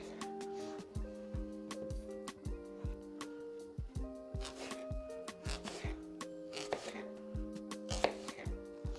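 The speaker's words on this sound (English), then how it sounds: "cut them into probably 1/2 inch thick slices like so" A knife cuts fruit into half-inch slices on a board, making a quick, regular run of crisp chopping knocks, close and fairly quiet, with no talking.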